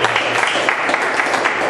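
A congregation in a church breaks into sustained applause, a dense steady wash of clapping hands filling the space for the whole stretch.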